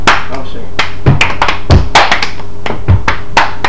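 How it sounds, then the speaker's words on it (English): A group claps a thunder clap in unison: a series of sharp, loud hand claps in an uneven rhythm, with people talking and calling out between them. "Ready to hit the thunder clap?"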